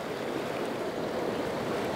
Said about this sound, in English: Look how rapid the river is running here.